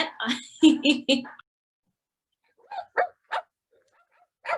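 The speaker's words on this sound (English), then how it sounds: "it's barking and making some noises." A small toy dog yips and barks in short high bursts, first alone, then faint electronic yaps return after a pause while a person speaks briefly.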